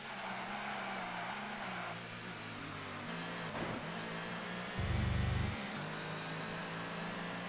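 A touring car engine from the ToCA 2 Touring Cars racing game at Thruxton drones loudly and steadily, dropping in pitch through downshifts and engine braking, with a brief burst of tire noise partway through.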